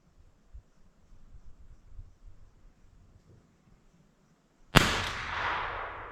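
A single sharp rifle shot from a Marlin Model 25 cracks loudly after a few seconds of quiet shuffling, its report decaying into a lingering noisy tail.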